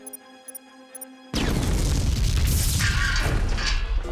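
Huge detonation in a sci-fi disaster film set at Stonehenge, bursting in abruptly after soft beeping tones and rolling on as a loud, sustained roaring blast with deep rumble through to the end.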